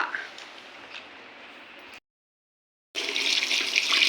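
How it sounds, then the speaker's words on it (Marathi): Snails being washed in water several times to rinse off soil, with steady running or splashing water that fills the clip, briefly cuts out, then returns louder. "चार पाच वेळा मस्त की धुवून घेतले कारण त्यातना थोडीफार माती असता"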